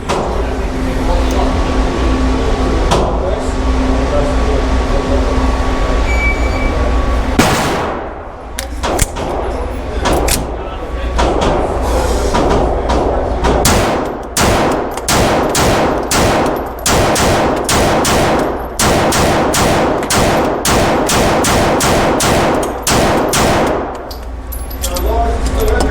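Pistol shots at an outdoor shooting range from a Walther PDP and a SIG 226 X Five: after a quiet opening, a long run of loud, sharp, close reports fires in quick succession, speeding up into rapid strings.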